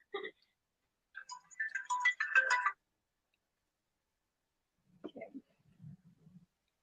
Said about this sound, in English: Actually, my phone's ringing.